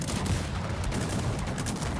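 Cannon and artillery fire rage in a Cossacks 3 battle, a dense, continuous barrage of overlapping booms and crackling shots with no pauses, fairly loud throughout.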